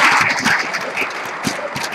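Audience applause for a line-following robot at a maker fair robot competition, a dense steady wash of many hands clapping at moderate loudness with a few sharper claps standing out.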